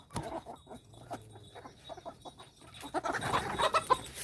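Chickens and a rooster cluck and squawk in a farmyard, short bursts scattered throughout, growing busier and louder toward the end.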